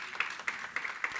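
A church congregation clapping in a steady beat, with four or five distinct claps spaced about a quarter second apart, fairly faint, with no talking.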